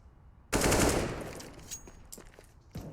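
Counter-Strike gunfire on the Overpass map: a sudden loud burst of rapid automatic rifle shots, likely M4s, opens and then trails into echoing decay, with a few softer shots following and no voices.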